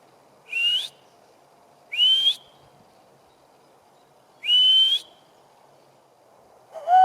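An owl, likely a tawny owl, gives three sharp, high-pitched whistles spaced a couple of seconds apart, with a lower hoot starting at the very end.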